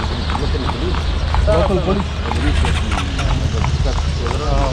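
Horse-drawn carriage in Luxor, Egypt, its hooves clip-clopping on the road in traffic, steady and partly buried beneath continuous close talking.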